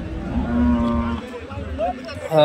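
Cattle low and moo at the Punganur weekly cattle market, a deep drawn-out call over a busy, noisy background with a louder sound near the end.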